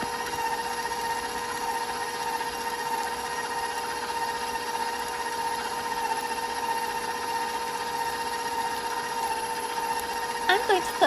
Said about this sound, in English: I'm going to put my mixer on a little higher to speed up the process